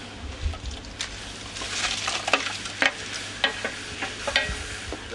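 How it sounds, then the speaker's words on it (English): A spoon stirs mussel soup in a pot, soft scraping and liquid swishing over a gentle simmering sizzle, close and fairly quiet with no talking. "Get a good stir around, and in go the half shell mussels."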